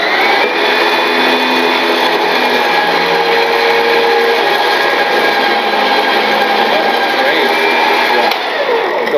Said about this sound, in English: we're going to drag that square knot through the system, show you how that performs